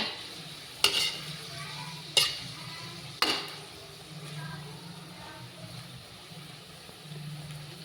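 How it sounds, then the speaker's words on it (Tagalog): Chilies sautéing in a pan while being stirred, a steady low sizzle broken by three sharp utensil scrapes near the start, close and moderately quiet with no talking. "nagisa na natin mga sisilab"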